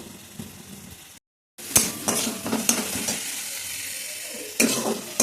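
Salt, turmeric, cumin and chili powder fry in a hot pan for a lotte fish dish, a steady close sizzle broken by stirring scrapes and clacks, with a brief gap of silence early on.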